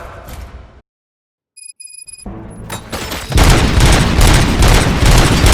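Sustained gunfire erupts in the video game Robocop Rogue City, building after a moment of silence and a few electronic tones into a loud, dense barrage of overlapping shots and booms.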